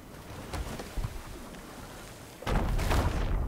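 A bomb explosion in Sea of Thieves booms with a broad rumbling blast, preceded by scattered softer thuds, loud and close.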